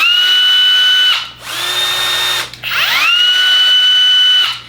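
A Festool CXS 12 cordless drill whines at a high pitch in three steady bursts with short pauses between, the pitch dipping and rising again as it spins up, close by.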